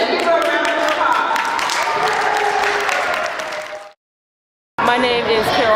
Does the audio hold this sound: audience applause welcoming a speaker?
yes